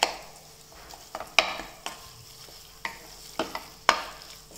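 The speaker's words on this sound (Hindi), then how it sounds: "क्रश कर देंगे ताकि सारी टमाटर, मसाले सब कुछ इसमें अच्छे से मिक्स हो जाए" Eggplant bharta is mashed and stirred with tomatoes and spices in a pan, giving repeated scraping and pressing knocks over a soft, steady sizzle.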